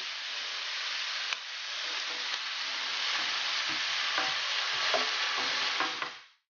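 Clams and tomato sauce cooking in a pan, a steady dense sizzle under occasional soft stirring scrapes, close and continuous before tailing off, with no voices.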